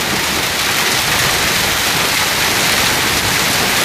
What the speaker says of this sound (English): Now there's some quarter-size hail.